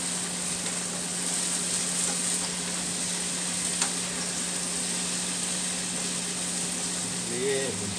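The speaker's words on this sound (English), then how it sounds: "Stir these potatoes a little bit" Diced potatoes fry in a pan on a breakfast stovetop while being stirred, producing a continuous loud sizzle with scraping movement and a steady background hum throughout.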